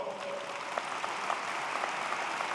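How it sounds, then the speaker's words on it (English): Commencement audience at the Eberly College of Science clapping for the faculty, a sustained, even round of applause from a large hall with scattered sharper claps and no speech. "Give the faculty a round of applause, would you?"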